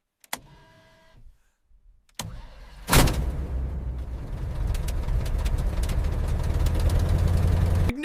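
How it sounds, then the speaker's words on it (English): Engine of a Boeing airliner starting in about -71°C cold in Yakutsk, Russia: quiet clicks give way to a sudden burst and a steady rising roar that builds and holds, loud and close. "Ignition! Engine 1 is alive!"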